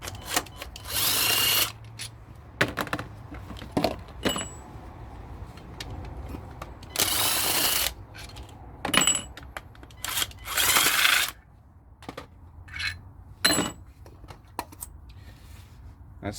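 A 14 mm socket on a power tool spins out gearbox bolts on a Mazda 6, with several loud bursts of whirring drill noise separated by quieter gaps and tool clatter.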